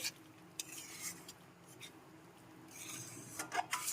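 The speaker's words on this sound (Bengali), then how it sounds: "আর দিয়ে দেব নুন স্বাদ মতো নুন দিয়ে দিচ্ছি সবকিছু খুব ভালো করে মিশিয়ে নিতে হবে" A spoon scrapes and stirs salt through a coconut potato curry masala in a pan. Soft, quiet rubbing strokes with faint clinks come in uneven bursts, growing a little busier toward the end, with no voices.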